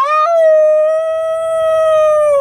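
A howling sound effect plays as a single sustained, clear wolf-like howl that rises briefly, then holds a long steady tone before trailing off, loud and alone.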